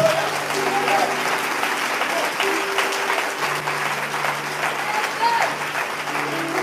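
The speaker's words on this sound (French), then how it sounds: "Acclamons le Seigneur Jésus-Christ." A church congregation applauds at a sermon, a sustained full-room clapping that carries evenly throughout, with a faint tone and a few voices mixed in.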